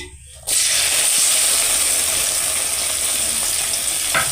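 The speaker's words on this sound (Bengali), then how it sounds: "এবার আদা, রসুন আর পেঁয়াজটাকে কিছুক্ষণের জন্য ভেজে নিতে হবে" Ginger-garlic paste and chopped green chilli hit hot oil for a doi chicken curry, setting off a loud, steady sizzle that starts abruptly after a short quiet moment and continues evenly to the end.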